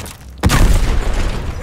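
Mortar shell exploding in Call of Duty Vanguard, a sudden loud, close blast that hits after a short lull and trails into a rumbling, crackling roar of debris.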